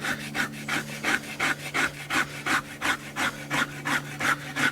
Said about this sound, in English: what that gives me is kind of a slicing action along with my scraping action